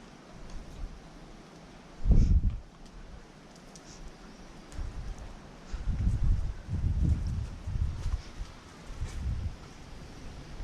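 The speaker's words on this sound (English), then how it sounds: "There's a lot of weird noises around, which I'm putting down to it being so windy and a lot of trees." Wind gusts through trees around old ruins in low rumbling surges, with a strong buffet early on and several more gusts later over faint rustling.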